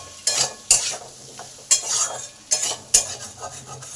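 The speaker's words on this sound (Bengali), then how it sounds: "আলুটাকে 2 মিনিট কষে নেব।" Diced potatoes being sautéed in a pan for a Bengali prawn posto curry, with a spatula scraping and stirring in about half a dozen distinct strokes over a soft sizzle.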